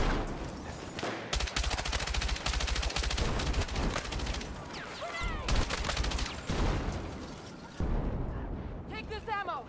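Dense Battlefield 6 gunfire: rapid automatic bursts and heavy shots crackling close and loud, interrupted by brief pauses, with whistling effects and explosions mixed in.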